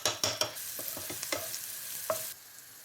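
Turmeric, paprika and chili powder fry in a pan with a quick, close sizzle broken by sharp stirring scrapes and clicks, then cut off abruptly.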